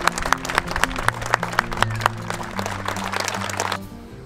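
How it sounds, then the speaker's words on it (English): An audience gives a round of applause for golfers at a tournament, a steady wash of clapping with several sharp louder claps standing out, a low hum underneath, before the sound drops away near the end. "One please, round of applause"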